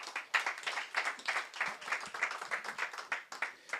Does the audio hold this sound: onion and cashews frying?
no